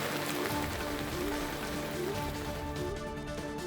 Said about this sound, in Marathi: सिंधुदुर्गच्या कुडाळ तालुक्यामध्ये विजांच्या गडगडाटासह अवकाळी पावसाने धुमाकूळ घातलाय